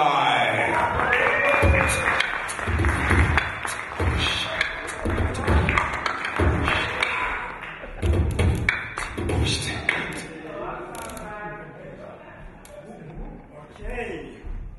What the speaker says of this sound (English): please give a warm round of applause for Cy Marai